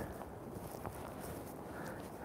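Strong wind during a storm at Coney Island buffets the microphone in a constant low roar, loud and unbroken, with faint knocks and thumps scattered through it.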